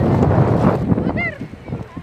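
Wind buffeting the microphone on a beach shore with waves washing in close by, rough and continuous, while people talk over it.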